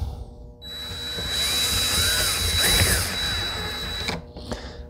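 A power drill drives a Phillips screw into wood, whining steadily at close range for about three seconds before stopping, with a few faint clicks after.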